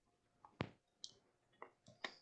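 Playing cards shuffled during a magic show, heard as a few short, separate riffling clicks and snaps close by, spread unevenly across a couple of seconds.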